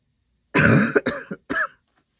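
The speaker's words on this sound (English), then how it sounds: "My apologies. The cough still remains." A single person coughs harshly in three quick bursts, close and loud, then falls silent.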